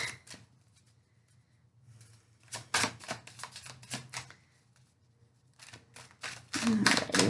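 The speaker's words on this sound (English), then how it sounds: "Alrighty, one more shuffle." A Star Spinner tarot card deck is shuffled in quick bursts of crisp, rapid flicking, one short run near the start, then two longer, louder runs separated by a quiet pause.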